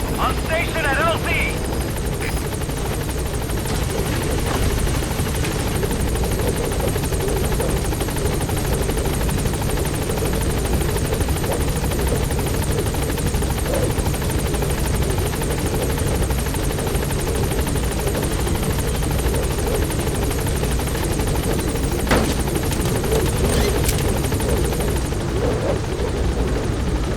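Pequod helicopter arriving at a landing zone in Metal Gear Solid V, a loud, steady rotor thrum and engine whine that continues without a break, with radio voices speaking over it.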